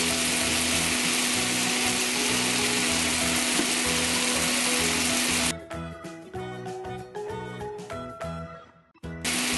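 Garlic and ground black pepper sauté in hot cooking oil for pineapple chicken in coconut milk, a steady close sizzle for several seconds before it turns into scraping, stirring clatter with brief pauses.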